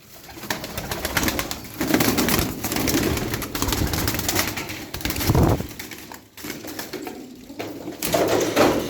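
A loft of twelve bango pigeons, including a yellow male and a blue-winged female, fills the air with close, overlapping soft coos and throaty murmurs, with rustling and shuffling between calls.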